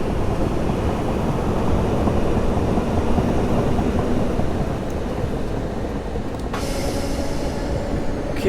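A Class 317/7 electric multiple unit running in Train Simulator 2017 on the Liverpool Street to Shenfield line, giving a loud steady rumble and rolling roar with a brief bright hiss late on.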